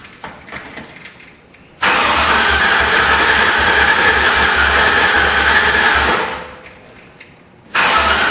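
A 1959 GMC Apache Fleetside truck engine cranks and catches, then roars loudly and steadily for several seconds before dropping back and briefly revving again near the end.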